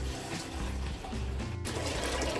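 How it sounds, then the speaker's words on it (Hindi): Water pours continuously into a pot of kadhi during home cooking, making a steady gushing, splashing flow close by with a short break midway and no talking. "इसमें मैं पानी और डालूंगी अभी।"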